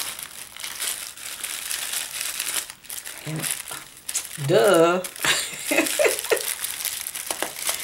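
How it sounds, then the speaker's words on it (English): Paper gift wrapping being peeled off and crumpled, close crinkling and crackling that builds to a loud burst of rustling midway, with a person talking softly around it. "see if we can remove this with minimal noise"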